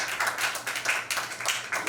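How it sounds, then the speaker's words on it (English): Brief clapping from a small group at a press conference, a short burst of moderate applause with no speech over it. "A big round of applause."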